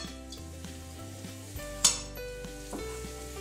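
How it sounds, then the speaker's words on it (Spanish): Onion sautés in a pan for a stewed chicken with tomatoes and spices, producing a steady close sizzle and crackle with a sharp metallic clink from a utensil midway. "la vamos a sofreír hasta que esta se ablande"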